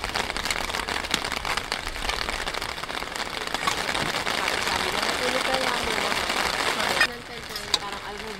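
Rain falls at a campsite as a dense, steady patter on surfaces, fairly close and even throughout, with faint murmuring voices underneath.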